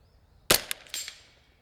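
A single sharp crack from a semi-auto .22LR rifle, close and loud, followed by a brief clattering echo that fades out quickly.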